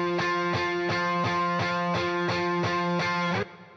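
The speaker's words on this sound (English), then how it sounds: "I'm going to be using reverb, the delay and the pitch" Solo electric guitar run through reverb, delay and pitch effects, playing a steady repeated chord-like pattern of about nine evenly spaced plucked notes, loud and close, ending with a brief decaying tail.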